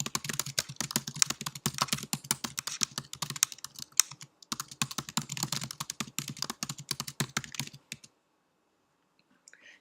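Rapid, irregular clicking of keys typed on a computer keyboard, close up, in two bursts with a short pause, then quiet.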